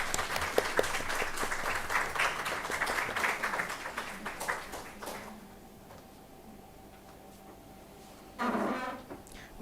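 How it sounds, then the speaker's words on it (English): Audience applause at a botany department career guidance event, dense clapping for about five seconds that dies away into room quiet, followed by a brief burst of voice or noise near the end. "Can we have a huge round of applause"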